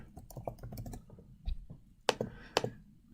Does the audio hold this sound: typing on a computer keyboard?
yes